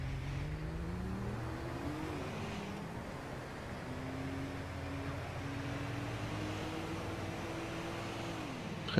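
A car engine accelerating, heard as a steady motor drone that climbs in pitch across several gear-like rises, moderately close and continuous, with no talk over it.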